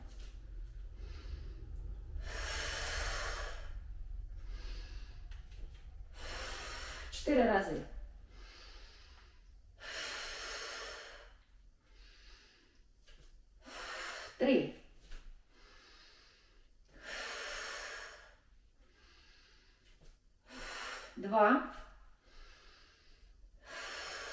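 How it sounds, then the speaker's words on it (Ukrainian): Slow, rhythmic breathing during a morning towel workout, with deep audible inhales and exhales repeating steadily at close range, a gentle voice guiding between the breaths. "Вдихаємо, видихаємо, вдихаємо, видихаємо."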